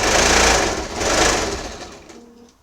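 A sewing machine stitching fabric for a scrunchie, running loud and close with a whirring, buzzing hum that surges twice and then slows and fades toward the end, with no talking.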